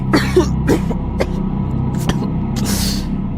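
Several separate coughs burst out at irregular intervals over a low background hum, harsh and fairly close.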